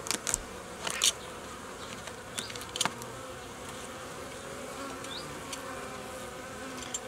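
Honeybees from a wintering colony buzz faintly around the hive, a soft steady drone broken by a few brief louder passes of individual bees close by.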